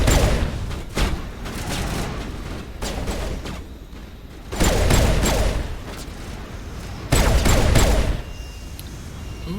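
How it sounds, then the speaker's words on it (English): Gunfire in the Mass Effect video game: dense, loud volleys of shots and blasts in repeated bursts, with heavier booms between steadier stretches of firing. "Stop shooting at my tech expert."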